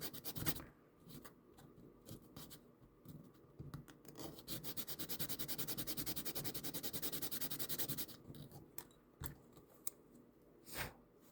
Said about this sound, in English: I think we can probably just use this sanding stick. I just put this on my oak block here, just so I get a solid surface. And we'll just sand that down.